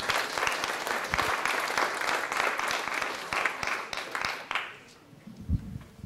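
Audience applauding at a doctoral degree and habilitation award ceremony, a dense sustained round of clapping that fills the room for several seconds before fading out, with a brief low thump at the end.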